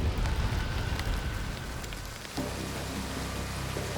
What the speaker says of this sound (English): the skies darken and it begins to rain